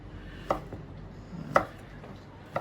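Tail fat is chopped with a knife on a board while making Adana kebab: three sharp, separate chops about a second apart, close and fairly quiet over a low background hum.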